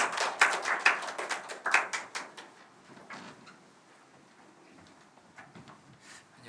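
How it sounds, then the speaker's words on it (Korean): Clapping from a church congregation during a Sunday worship service, welcoming a member up to speak; a short burst of claps fades within a few seconds into a quiet room. "우리 승리 형제 박수로 초대하겠습니다"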